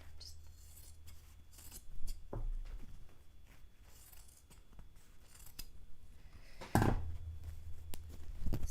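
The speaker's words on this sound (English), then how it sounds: "And I'm just going to cut them right here." Scissors snipping through fabric for a DIY Jedi robe, a few quiet separate cuts close by with one sharper louder snip near the end, in a quiet room.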